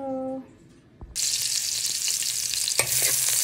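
After a quiet start with a brief clunk, garlic hits a hot pan and bursts into a loud, bright, steady sizzle that carries on up close with a few stirring knocks.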